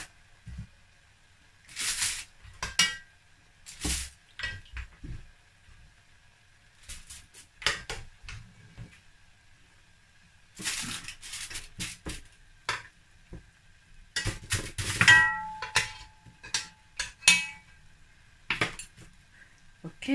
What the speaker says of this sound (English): So now guys, I'm going to put my turkey in the oven tray.